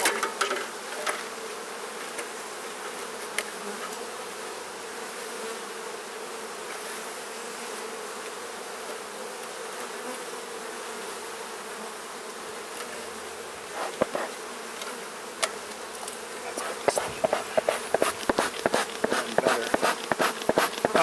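Honeybees buzz steadily around an open hive during a split, a dense continuous drone close by, with sharp clicks and knocks of frames and tools picking up near the end.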